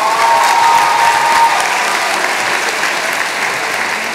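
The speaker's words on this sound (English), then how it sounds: "Please give another round of applause from the graduates from the Graduate School" Applause at a graduation achievement celebration for graduate school graduates, a dense, sustained wash of clapping from a large crowd, loud and even throughout.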